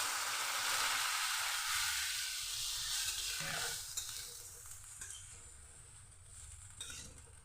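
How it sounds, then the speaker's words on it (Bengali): Water poured into frying spices for a fish curry, a loud steady hiss and sizzle of oil that fades and calms over several seconds, with faint stirring and clinks of the pan. "এবার আমি দিয়ে দিচ্ছি পরিমাণ মতো জল"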